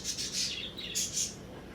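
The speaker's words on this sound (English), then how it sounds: "the freaking birds are going crazy again because they haven't been let out yet" Pet birds indoors squawk and chirp in overlapping bursts, fairly faint but continuous over a low background hum, with shrill peaks rising and fading across the moment.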